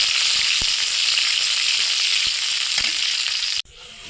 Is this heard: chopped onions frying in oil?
yes